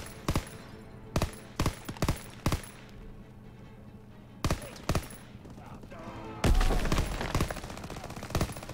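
MG42 machine gun fire in Call of Duty: WWII during the D-Day Normandy beach landing: sharp, loud short bursts and single cracks in irregular rhythm, followed by a sustained roar of heavy battlefield noise, with no talking.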